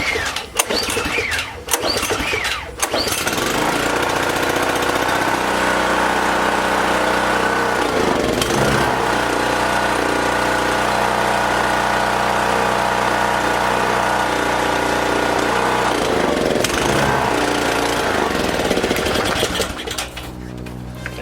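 Small gasoline engine sputters through pull attempts, then catches and runs with a loud, buzzing idle that holds steady with a few dips before stumbling near the end.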